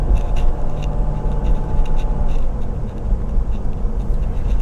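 A 2017 Ford F350 4x4 pickup truck out on a test drive, its engine and road noise forming a steady, continuous drone heard from inside the cab with no talking.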